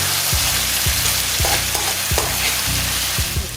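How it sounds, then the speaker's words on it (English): Coconut cream melts and fries in hot oil for a Jamaican mackerel run down. A steady, loud sizzle carries regular clicking stirs throughout, with no talking. "I will allow this to melt in the oil and cook to get that flavor going"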